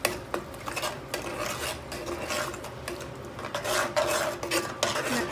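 Puerto Rican arroz con gandules stirred in a pot, a close, steady scraping rasp of a spoon through rice against the pot bottom with repeated strokes and no talk.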